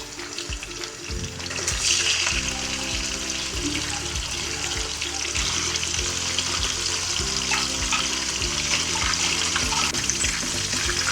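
Chicken pieces going into hot ghee in a karahi for green chicken karahi, giving a loud, steady, crackling sizzle that rises after the first second and continues unbroken, with a low tonal hum beneath.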